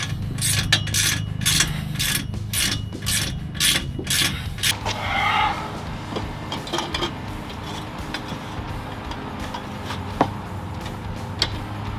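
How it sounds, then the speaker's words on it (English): A wrench tightens exhaust bolts on an S197 Mustang GT, giving a rapid, regular run of close ratcheting clicks for about five seconds, then fading to softer scattered scraping and taps. "I'm gonna go through and tighten this whole side down"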